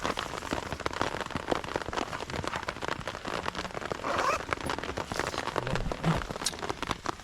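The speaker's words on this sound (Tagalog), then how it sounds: "Kaya abutan na kami ng ulan." Rain falls outdoors by the sea, a steady crackling patter of drops with brief louder swells, fairly close and continuous throughout, with no talking.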